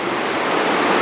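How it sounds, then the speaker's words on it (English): A river, likely Abrams Creek, flows beside the Abrams Falls Trail at Cades Cove in the Smoky Mountains, a loud, steady, close rushing of water with no breaks. "Little river."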